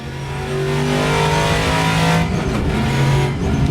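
A VRC TA2 muscle car in the Assetto Corsa racing sim roars at high revs, a loud, steady V8-style drone that rises and dips slightly as the throttle is worked, with nothing else over it.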